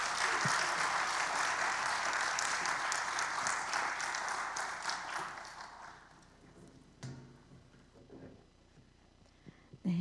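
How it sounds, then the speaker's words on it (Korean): An audience at a church testimony meeting with a North Korean children's choir claps to welcome a speaker, with full applause for about six seconds that then fades away into near quiet. "박수로 환영하겠습니다"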